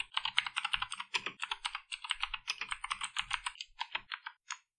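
Someone types Dart code on a computer keyboard in quick, uneven bursts of crisp key clicks that continue without pause, close and clear with no talking.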